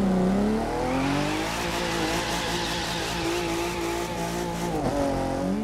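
A Nissan 370Z drifting in The Crew 2 racing game, its engine droning loud and steady with rising and falling revs while a sustained tire squeal runs throughout, with no talk over it.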